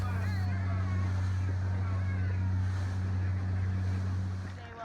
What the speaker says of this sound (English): You actually have to hop on board a ferry for a 1-hour ride from the mainland